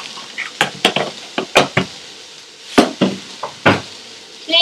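Peppercorns dry roast in a pan and get stirred, producing a run of close, crisp clacks and scrapes in an uneven rhythm, loud and alone with no voices.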